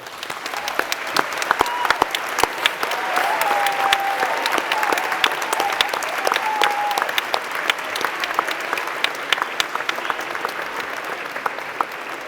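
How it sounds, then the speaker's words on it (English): Sustained applause from a graduation ceremony audience, steady and dense for the full length, with a few faint voices and cheers mixed into the clapping. "Let's give them the applause they so richly deserve."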